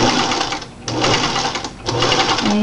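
A sewing machine stitches fabric for a grocery bag holder, its motor whirring loudly and steadily in two runs split by a brief pause.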